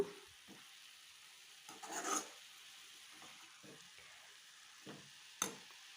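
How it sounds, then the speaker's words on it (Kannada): Jackfruit palya frying in a pan, a faint continuous sizzle with scattered soft scrapes and stirs, one louder stir near the start and a sharp clink later, no talking. "ನೋಡಿ ಚೆನ್ನಾಗಿ ಹುರಿತಾ ಇದೆ"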